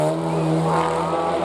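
Loud Ducati V4 race bike at full throttle on a hillclimb course, its high, steady engine note holding strong and close throughout with no voices over it.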